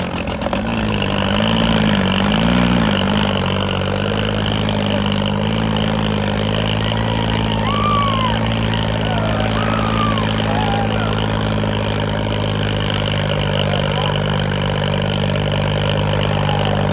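A tractor engine runs steadily at idle with a deep, continuous chugging drone, close and loud, with faint chirps in the background.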